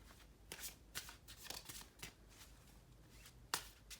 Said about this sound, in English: Let me shuffle this real quick. Shuffle it up.